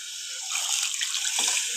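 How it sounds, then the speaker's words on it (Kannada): Water splashes and gurgles as it is poured into a pan for vermicelli upma, a short close pour that rises and sloshes briefly. "ಇನ್ನೂ ಸ್ವಲ್ಪ ಜಾಸ್ತಿನೇ ನೀರು ಹಾಕ್ತಾ ಇದ್ದೀನಿ"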